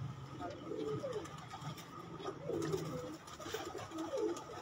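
Champion pigeons coo in soft, repeated rolling calls that recur every second or so against a low background hum, while people talk nearby.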